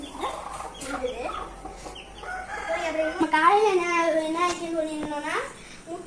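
Chickens cluck and squawk close by, their calls rising and falling, while someone talks over them.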